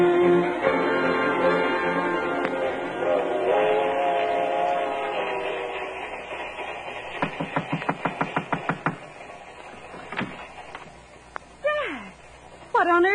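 Train sound effect for an old-time radio drama: a steady rumbling carriage bed under dialogue, then a quick run of rhythmic clacks like wheels over rail joints, followed by brief whistle-like tones near the end.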